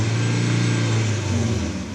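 A 2017 performance car engine idles with its exhaust rumbling, a loud, close, steady low drone that eases off slightly at the end.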